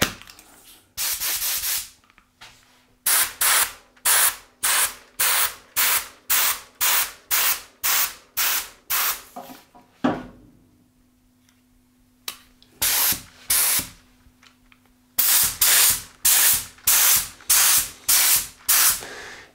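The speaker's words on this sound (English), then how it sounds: "let's put in some gun cleaner and let's try to spray" Repeated short bursts of a cheap spray gun hissing as it sprays gun cleaner, each about half a second, in quick rhythmic runs with brief pauses, loud and close.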